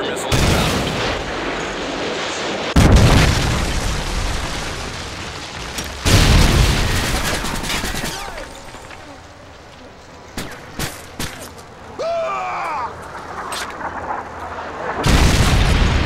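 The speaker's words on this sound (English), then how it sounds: "Friendly Predator missile inbound." Heavy booming explosions from a Predator missile strike in Modern Warfare 3, several loud blasts spaced apart with rumbling tails, mixed with game voice announcements and scattered gunfire.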